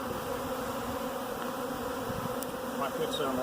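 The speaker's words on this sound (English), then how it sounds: "They are sounding a lot calmer though, just the overall sound that they're making." A swarm of honey bees hums steadily at close range, a dense continuous drone with individual buzzing insects flitting past now and then.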